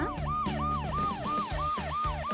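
An ambulance siren sound effect wails in a repeating rising-and-falling cycle, loud and continuous with a low engine-like rumble underneath, no voices.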